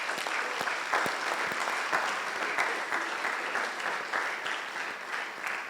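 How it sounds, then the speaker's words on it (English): An audience at a university official launch applauds after a vice-chancellor's address, a fairly quiet, even patter of clapping with a few sharper claps standing out, continuous throughout. "Please give a wonderful applause."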